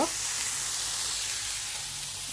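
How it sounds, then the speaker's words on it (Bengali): A curry of radish, shrimp and small dried fish sizzles steadily in a pan, producing an even, close, moderately loud frying hiss with no break for the whole short stretch. "এইখানে রান্না বসাই দিছি আপনার মূলা চিংড়ি আর সুতি দিয়ে আপনার একটা কারি রান্না করব"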